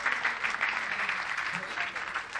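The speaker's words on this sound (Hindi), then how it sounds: "एक बार भटनागर साहब के लिए ज़रूर तालियां बजा दें।" An audience at an engineers' club foundation day celebration in Delhi claps for an honoured guest, a sustained, even patter of many hands, moderately loud and continuous, with faint voices under it.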